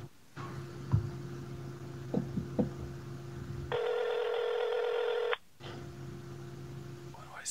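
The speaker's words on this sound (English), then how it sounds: "Shit, it's ringing." A telephone call placed from a podcast rings through on the line: steady electronic tones sound, then a louder, sustained ringing burst of about a second and a half, followed by the tone resuming. No one speaks.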